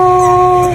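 A five-week-old American Bully puppy gives a short, steady high whimper or whine, loud and close, held for under a second with no talk over it.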